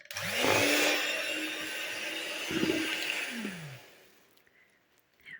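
An electric mixer whirs steadily as it whips chilled butter and condensed milk into a fluffy cream, the loud motor tone shifting slightly before winding down and stopping.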